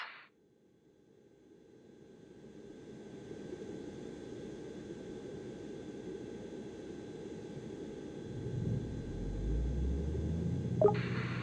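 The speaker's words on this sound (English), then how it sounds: "hold down the engine start button for approximately 3 seconds until the engine starts" Aircraft engine spooling up in the AirportSim video game, a faint hiss and steady whine that gradually builds into a louder rumbling roar over several seconds, with a brief click near the end.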